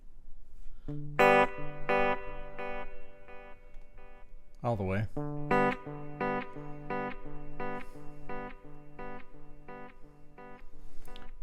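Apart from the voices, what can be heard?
guitar through overdrive pedal at full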